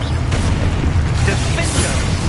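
A Confringo blasting spell goes off in the video game Hogwarts Legacy, giving a loud booming burst over continuous rumbling game audio and battle noise.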